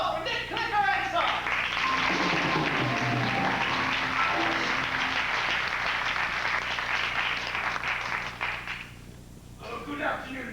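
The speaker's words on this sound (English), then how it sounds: "a warm round of applause for Nick Clicker and Son" An audience claps steadily for several seconds, the applause thinning out near the end before a brief final burst.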